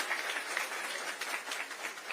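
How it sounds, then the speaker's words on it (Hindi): An audience at a Chhattisgarh government event with the chief minister claps steadily as a soft, dense patter of many hands, heard faint and somewhat distant with no voices over it. "ताली उनके लिए बजाइए"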